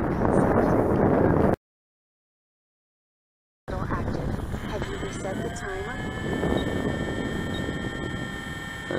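RC model Avios 1200mm Sea Fury warbird flying with a Guardian stabiliser, its electric motor buzzing steadily at moderate distance with pitch sweeps as it passes, after a short gap of silence, with some voice present.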